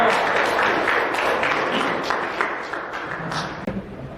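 Classmates applaud a student group after its presentation in a vocational school classroom, a dense wash of clapping that holds for about four seconds and slowly thins toward the end.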